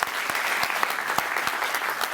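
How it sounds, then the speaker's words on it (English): An audience at a data conference applauds, a dense, steady wash of clapping hands filling the whole moment at even loudness, with no voices standing out. "give Drew and Hillary and everybody that's helped them a huge round of applause"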